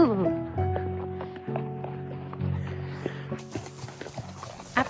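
Horses and a mule picking their way along a Montana mountain trail give soft, uneven hoof clops close by, mixed with tonal ringing of tack or bells and some short movement noises.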